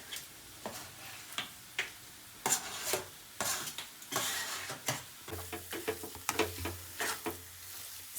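Mashed potatoes being stirred with turmeric and coriander-cumin powder in hot oil for aloo paratha filling, giving irregular scraping and tapping strokes of a spoon against the pan over a soft sizzle.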